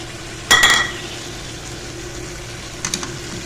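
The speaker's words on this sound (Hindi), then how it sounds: "इसको अच्छे से मिक्स करेंगे।" Frozen tomato puree cubes are stirred into a mutton karahi gosht. A spoon clinks and scrapes against the pan in one short clattering burst, followed by a few faint clinks a couple of seconds later over a low background hiss.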